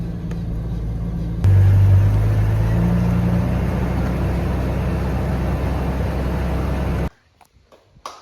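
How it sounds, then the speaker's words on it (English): A Jeep Comanche pulling a BMW E30 M3 up a driveway, a loud steady low engine drone that rises abruptly and holds for several seconds before cutting off to near silence, close by. "taking my Comanche and bringing this up the driveway as carefully as humanly possible"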